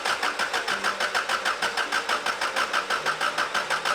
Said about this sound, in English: To do a compression test, we need to remove the spark plugs, add this device, and then crank the engine.